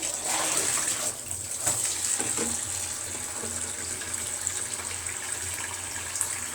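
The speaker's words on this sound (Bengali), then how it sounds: "আমি একটু লবণ দিয়ে ভালো করে ধুয়ে নিব কারণ লবণ দিলে দেখা যায় অনেক ময়লা বাইর হয় মাছ থেকে" Fish is rinsed with salt under a running kitchen tap, a steady close stream of gushing water with occasional splashes and clatter from handling, with no talking.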